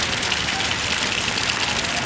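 Rain falls steadily on a speed boat fitted with plastic side covers while it waits before crossing the Demerara River, a dense, continuous close patter with no voices.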